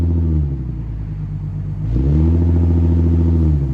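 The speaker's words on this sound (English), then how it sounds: "I'm just holding the brake and pressing the gas to see how far it will let me rev." A car engine revs against the brakes during a brake stand while electronics cut power, holding a steady mid-range drone that climbs in pitch partway through and holds higher without reaching high RPM.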